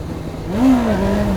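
A motorcycle engine revs up sharply and briefly during wheelie practice on a straight lane, its pitch climbing then easing back in one close, loud surge.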